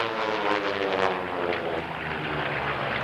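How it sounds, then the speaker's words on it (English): A propeller racing airplane running a stock engine drones past at an air race, its steady, loud, throaty roar filling the whole stretch with no voices over it. "Now that airplane this year is running a stock engine."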